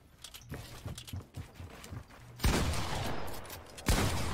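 Gunfire in a Fortnite siege fight: scattered light taps and shots early, then a loud sustained burst of rapid fire erupting midway and another sharp blast near the end, close and dense.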